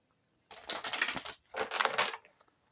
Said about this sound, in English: While shuffling the cards,